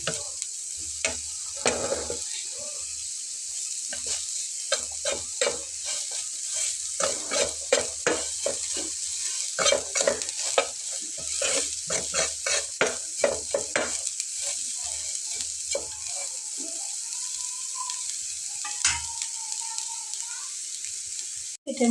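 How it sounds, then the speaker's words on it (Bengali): A potato snack mixture is fried and stirred in a pan on low flame, with a steady soft sizzle and repeated scraping strokes of a spoon, close and fairly clear. "এটা মোটামুটি 10 মিনিটের মতো আমি এটাকে ফ্রাই করে নিয়েছি।"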